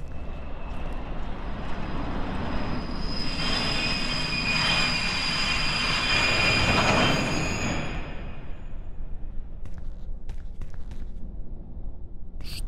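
A train pulls into a station platform in the horror video game Whispering Lane, rumbling near and loud with high squealing wheels and brakes, swelling then cutting off into quiet with a few faint clicks.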